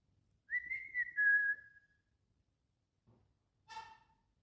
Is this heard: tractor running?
no